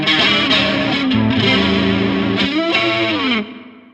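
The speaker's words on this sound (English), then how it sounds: "you can kind of do a fake Leslie thing with it as well" Single-coil electric guitar run through a Wylde Audio chorus pedal with the rate cranked for a fake Leslie rotary swirl: sustained, shimmering chords and bends played up close, ringing out alone before fading at the end.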